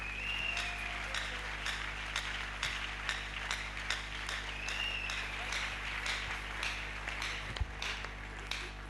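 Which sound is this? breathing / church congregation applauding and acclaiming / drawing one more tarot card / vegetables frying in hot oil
church congregation applauding and acclaiming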